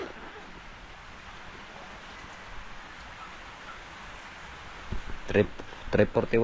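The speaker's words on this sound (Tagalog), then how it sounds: "yan patuloy na naman, ulan na naman, baka hindi tayo makauwi" Rain falling steadily outdoors, a constant soft hiss throughout, with a few louder knocks and bumps toward the end; no talk heard.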